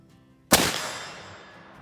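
A single Armsport Kentuckian black powder muzzleloader shot with an 80-grain charge: one sharp, loud blast following a quiet lead-in, then a long rumbling decay trailing off over more than a second, outdoors with no voices.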